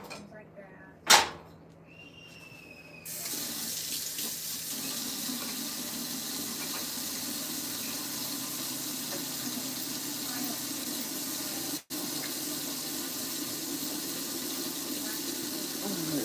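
Water from a kitchen tap starts after a sharp clack and a brief squeak, then runs steadily into the sink in a continuous hiss with one short interruption.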